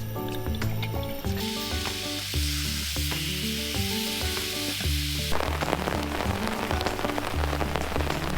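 Marinated pork frying in a pan at a rainy campsite, a dense continuous sizzle with clattery stirring and heavy rain hammering down over it throughout.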